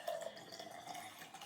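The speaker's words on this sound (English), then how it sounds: "So let me pour you some homemade mint ginger iced tea." Homemade mint ginger iced tea poured into a glass, a short, quiet trickle of liquid close by with a faint ringing tone, alone with no talk.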